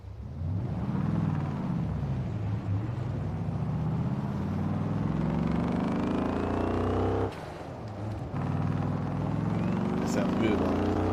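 A car engine in Forza Horizon 4, played on a Thrustmaster TMX wheel, drones steadily and loudly with rising and falling revs throughout, dipping briefly before picking back up, with a voice talking over it.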